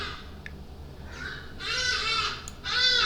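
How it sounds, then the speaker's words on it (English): Harsh, loud calls of hadeda ibises burst out in a couple of raucous bouts over faint background hiss, with a few quieter squawks before. "excuse the birds in the background,"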